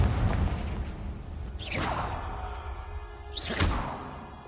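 Two Confringo fire-blast spell explosions in the Hogwarts Legacy video game, each a sharp whooshing burst that booms and then fades, the first near 1.7 seconds and the second near 3.6 seconds, over a low rumbling game ambience.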